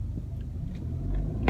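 A 2020 Subaru Outback XT Onyx Edition accelerates from inside the cabin, a steady low engine and road rumble that builds slightly, with faint clicks and a brief sharp knock near the end.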